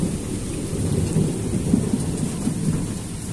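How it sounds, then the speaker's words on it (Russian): Thunder rolls low and continuous through steady rain outdoors, a deep rumble that swells and fades with the patter of drops throughout. "сейчас будет опять греметь"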